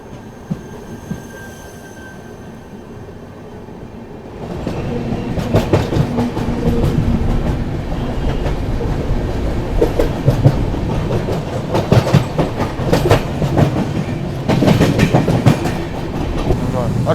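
East Coast Express train, bound for Hyderabad, rolls past at close range on the Indian railway line: a steady low rumble swells after a quieter start into loud, continuous wheel clatter and rattling wagons, with faint squeals, no talk over it.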